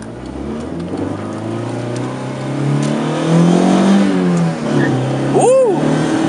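A Honda Civic EF wagon with a swapped B20 engine drives along, its steady mid-pitched engine hum swelling gently as it accelerates, heard from inside the car beneath ongoing conversation.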